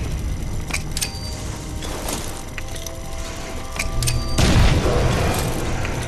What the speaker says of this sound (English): I'm just gonna chuck nades at you.